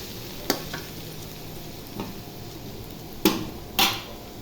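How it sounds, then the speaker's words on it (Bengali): A utensil stirs chopped onions frying in a pan over a low steady sizzle, with a few distinct scrapes and knocks against the metal. "নেড়ে চেড়ে নিব কিছুক্ষণ।"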